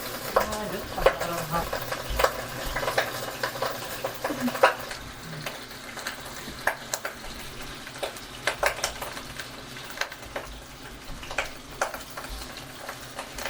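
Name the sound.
eggplants frying in a pan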